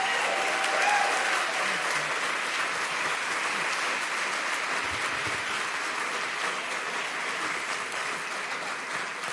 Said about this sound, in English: Everyone give another round of applause for Brian.